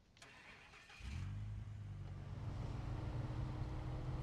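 A truck engine in a video game starts up and settles into a steady low rumble that builds slightly, with no talk over it.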